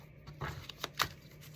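A Hermetic tarot deck is shuffled quietly up close, with a few soft riffling bursts and light card slaps spaced across a couple of seconds.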